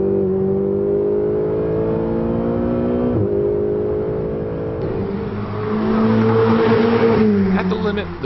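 A Ferrari 488 supercar accelerates hard, its loud engine note climbing steadily with quick gear changes that drop the pitch before it rises again.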